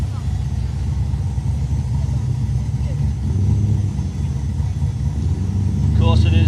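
Naturally aspirated quick street drag racing cars, including a Camaro, run on a no-prep airstrip; a steady loud engine rumble builds toward the end while a commentator talks over it.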